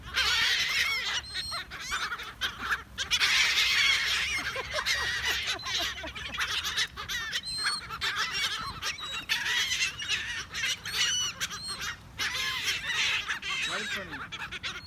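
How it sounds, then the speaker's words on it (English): Waterfowl honk and call at a park, a busy overlapping chorus of loud, nasal cries close by that comes in bursts over the whole stretch, with some voices in the background. "I told you it attracted ducks too."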